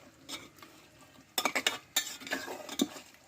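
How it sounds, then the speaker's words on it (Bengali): Mutton is turned and stirred in a cooking pot, producing soft scraping and a few light metallic clinks in short bursts over a quiet background. "আমি উল্টিয়ে ভালোভাবে আমি একটু নাড়াচাড়া করে দিলাম"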